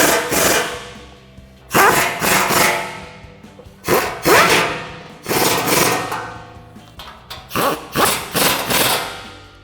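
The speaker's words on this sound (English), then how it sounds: "grab your 12mm socket and tighten all of those down" A 12mm socket on a ratchet tightens bolts on aftermarket adjustable front control arms of a Toyota Tacoma, in repeated bursts of loud, close ratcheting and clicking separated by short pauses.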